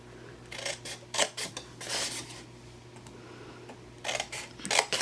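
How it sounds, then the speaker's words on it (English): Paper snips cutting along a score line in a sheet of paper, a few short crisp snipping bursts spaced irregularly over a low steady hum, close and fairly quiet. "get our paper snips, and we are going to cut the score line up to that 1 3/8 inch"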